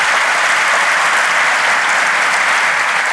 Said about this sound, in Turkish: harikulade bir bölümle Ankara'da alkışlarla devam ediyoruz